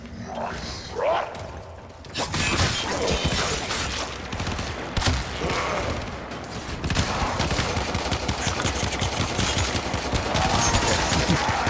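Rapid pistol fire in a video game, dense bursts of shots crackling nearly nonstop after a quieter start, with game effects mixed in and some faint voice underneath.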